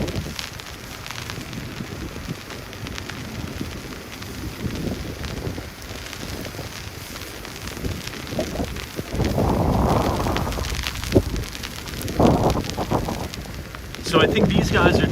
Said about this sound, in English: the wind is really picking up on 5th. And the wind is pretty cutting right now.